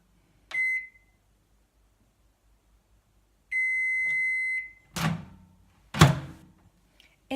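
Short then long electronic beeps from a Russell Hobbs RHM1714 compact digital microwave as the stop button is held, followed by two dull thunks of handling, in a quiet room.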